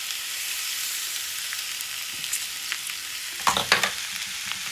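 Flattened rice poha with turmeric frying in a kadai, a continuous sizzle broken by scraping spatula strokes that grow louder and busier toward the end, no talking.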